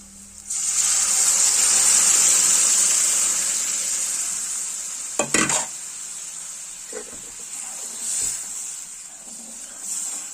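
A loud burst of sizzling hiss as spices hit hot oil, slowly dying down, followed by a few sharp clatters nearby.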